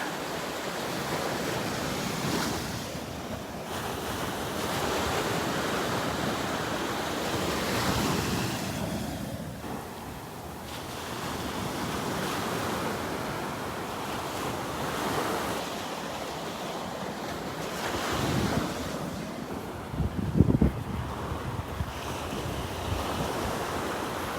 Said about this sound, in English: love that sound of those waves this morning